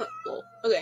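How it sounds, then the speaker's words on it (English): A pet cat yowling and meowing indoors in short, loud, strained bursts, close by, with a brief spoken word over it. "Sorry if you hear the cat screaming in the background."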